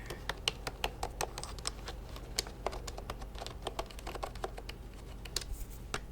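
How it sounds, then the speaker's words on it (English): Fast, irregular clicking of keys on a computer keyboard, close and fairly quiet, with uneven bursts of typing over a low background hum. "let's try out some typing for you. I'm gonna use my keyboard here."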